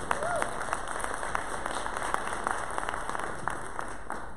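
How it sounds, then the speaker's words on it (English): An evening audience at a school district community talk series claps steadily in a room, a moderate, even patter of many hands with some louder individual claps and faint voices beneath. "Give yourselves a round of applause for being here this evening."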